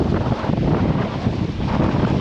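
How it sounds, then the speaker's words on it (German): Strong wind roars steadily across the microphone while a sailboat makes 20 knots through the channel between Tahaa and Raiatea in French Polynesia, with broadband gusting rush and low rumble throughout and no talk. "Herrlicher Wind."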